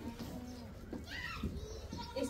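A village nanny goat with her newborn kid bleats in short, faint calls, several soft cries rising over low background noise while people murmur nearby.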